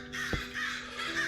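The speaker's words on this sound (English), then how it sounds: "Those crows are annoying." Crows caw as ambient sound in the modded Minecraft video game, several harsh calls spread across a short stretch over a low steady background hum.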